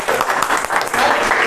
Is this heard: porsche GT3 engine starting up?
no